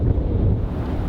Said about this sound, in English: Suddenly very windy. 28 knots coming in.